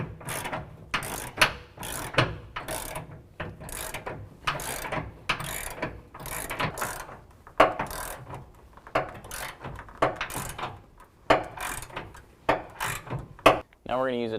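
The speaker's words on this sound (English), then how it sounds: "Now we can tighten down our 2 21mm bolts that are going from our bracket to our frame." A ratchet wrench tightening two 21mm bolts from a rear bumper bracket to the frame of a 2017 Ford F-250 Super Duty, quick rhythmic bursts of clicking close to the mic, repeated strokes with short pauses.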